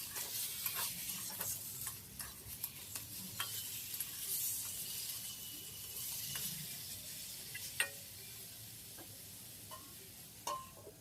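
Eggplant and potato pieces frying in a pan while being stirred, a quiet continuous sizzle broken by frequent light clinks and scrapes of a spatula against the pan, no voices.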